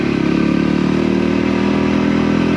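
An off-road motorcycle rumbles steadily along a bumpy dirt track, its engine loud and close with a constant droning tone and slight surging.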